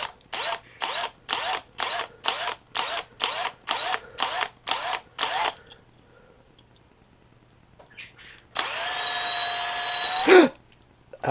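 A power drill on its lowest setting whirs in a rapid series of about a dozen short, evenly spaced bursts into a toy car axle, then pauses before one longer, rising whine that stops suddenly.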